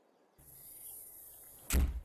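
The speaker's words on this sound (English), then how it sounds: "listen to the sound when you close the door" A cab door of a Big M500 in Farming Simulator 22 shuts with a single sharp, loud thud near the end, preceded by a faint steady hiss of cab ambience.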